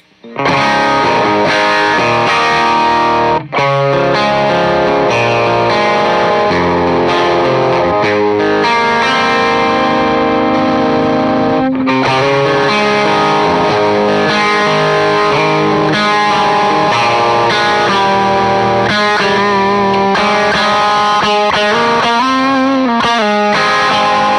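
Electric guitar played through a Supro-style preamp pedal, a Preston Pedals MASON, with the gain toggle at mid gain, giving loud, continuous overdriven chords and riffs with a couple of brief pauses and no talking.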